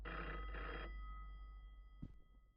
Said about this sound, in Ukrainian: Хтось дзвонить нам на телефон.